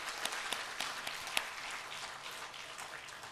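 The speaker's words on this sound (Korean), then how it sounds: "우리 하나님께 영광의 박수 올려드립니다." Church congregation clapping during a Sunday worship service, a fairly faint, steady patter of many hands with a few sharper claps standing out, lasting a few seconds.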